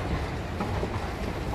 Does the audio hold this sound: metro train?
yes